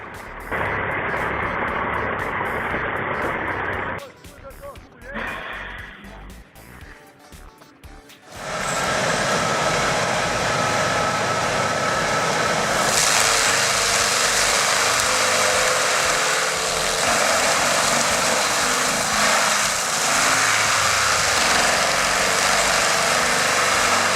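A heavy log truck's engine at work on a site where stumps are being pulled, a loud, continuous mechanical roar that drops briefly and then returns stronger and steady, with beeping at the start and no talk over it.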